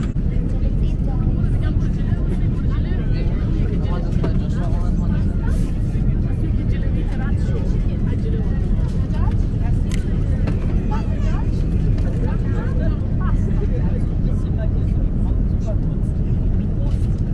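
Inside an airplane cabin on a bumpy flight, a loud, constant engine roar fills the whole stretch while people talk faintly underneath.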